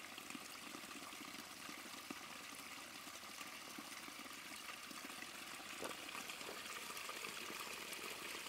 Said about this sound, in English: But it's nice to see water is flowing